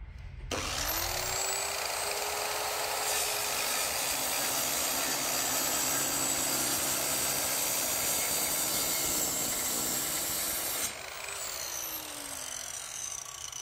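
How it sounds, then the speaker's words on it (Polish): A handheld circular saw rips through wooden floorboards held down by hand, the motor whining up to speed before roughly ten seconds of loud, steady, close cutting roar, then spinning down and fading at the end. "tylko wszystko jechanie na żynanie tamtą piłą obrotową tarczową"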